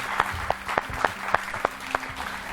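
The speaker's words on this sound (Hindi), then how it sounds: "तालियों के साथ स्वागत कीजिए स्वामी जी का" Audience applause welcoming Swami ji on stage, sparse clapping from a small group with distinct individual claps in a loose, uneven rhythm over a faint steady hum.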